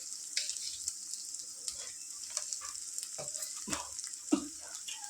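Ginger garlic paste sizzles steadily in a hot pan for mutton liver curry, a continuous bright frying hiss with a few scraping stirs and small pops, close and fairly quiet, no voices.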